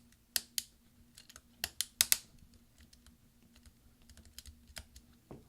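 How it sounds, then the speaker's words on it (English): Replacement command key on a 13-inch early 2009 MacBook Pro Core 2 Duo snaps into place under finger pressure, giving a few sharp close clicks in quick pairs, then lighter scattered taps over a faint steady hum. "we're pushing it down until they all catch"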